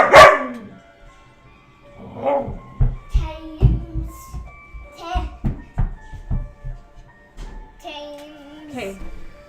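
Dogs bark sharply in a busy family house with children, a string of loud, close barks spread across several seconds, mixed with a voice and other household speech.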